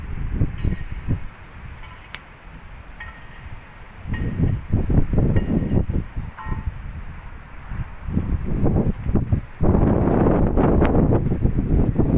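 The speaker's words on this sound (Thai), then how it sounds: "วันนี้ฝนทั้งฝนทั้งลมนะครับ" Gusty wind roars across the microphone in surges during a heavy rainstorm in Bangkok, with steady rain noise filling the gaps and rustling building louder toward the end.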